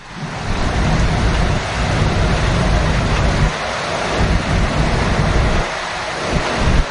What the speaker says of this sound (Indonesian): Wih, badai ini mah.